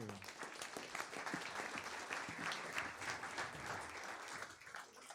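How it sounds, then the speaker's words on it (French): An audience at a University of Bordeaux presentation applauds, a steady, even wash of clapping from many hands that carries on without a break, moderately distant and fairly soft. "Je crois qu'on peut les applaudir à nouveau."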